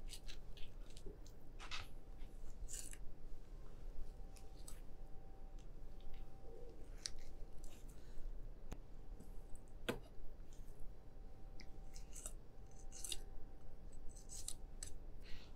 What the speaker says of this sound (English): Then slide your knife over the bone.